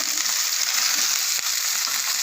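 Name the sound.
frying nalleru (veld grape) stalks in pan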